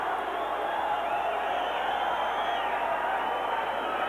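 Dense, steady roar of a boxing arena crowd in Albuquerque at the Johnny Tapia vs Henry Martinez pro fight, a continuous wash of many voices holding at a loud, even level throughout.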